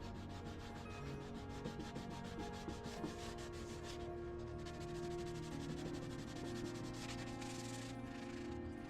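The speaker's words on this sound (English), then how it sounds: "I hand sanded them with 180 grit sandpaper" Hand sanding with 180 grit sandpaper on a nightstand, a continuous close rubbing scratch with fast back-and-forth strokes at a steady level throughout.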